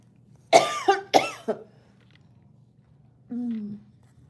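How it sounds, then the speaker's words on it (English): Two sharp, close coughs in quick succession followed by a short throat sound, then a brief low vocal grunt after a pause. "that was a cough."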